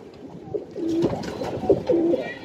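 A crossbred pigeon, sired by a Khulna Tula and crossed with a Saleti Kamagar, coos in repeated low throaty phrases nearby, with faint ambient noise and no talk.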